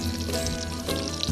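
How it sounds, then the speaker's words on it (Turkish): Steady sizzling and crackling of eggs frying in a hot pan, continuous and fairly loud throughout, with no voices. "sadece bu çırıltının sesi geldi"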